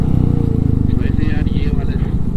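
Motorcycle engine labouring uphill in first gear on a mountain road in Ladakh, a loud, steady low throb close by with people talking over it.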